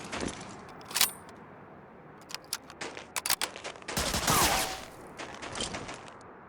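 Enemy gunfire from a sniper tower in the Medal of Honor game: scattered, fairly distant shots and short rattling clusters with a brief louder burst, set against a quiet ambient background.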